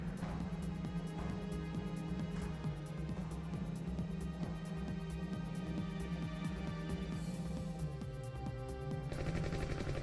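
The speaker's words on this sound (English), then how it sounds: "Gatling gun." A Gatling gun fires nonstop in the video game SeaBlade, a steady, rapid rattle of shots with a droning hum underneath, loud and unbroken throughout.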